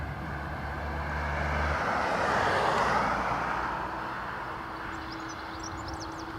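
An Airbus A330 airliner taxis at Dublin Airport, heard as a broad, steady engine roar that swells to a peak midway and then eases. Nearer traffic hums low underneath.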